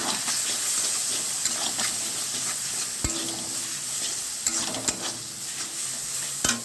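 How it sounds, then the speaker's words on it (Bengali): Roasted eggplant sizzles in a wok while a utensil scrapes and stirs, with occasional sharp clinks against the metal over a steady frying hiss. "বেগুন পোড়া দিয়েছিলাম সেটা একটু কড়াইয়ের মধ্যে নেড়ে নিচ্ছি"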